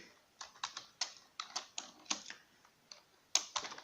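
Quick keystrokes tap out on a computer keyboard in short uneven bursts, close and fairly quiet, with brief pauses between clusters of clicks.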